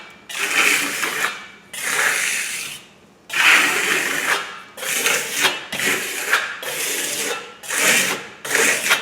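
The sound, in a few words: trowel smoothing eco stucco on a wall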